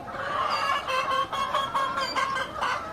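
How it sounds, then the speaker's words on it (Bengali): Multi-colour tiger breed parent hens cluck repeatedly close by, a busy run of short throaty calls with a brief crow-like cry mixed in. "এটা হচ্ছে আমার অরিজিনাল মাল্টি কালার টাইগার মুরগির প্যারেন্টস দেখলেই বুঝতে পারবেন"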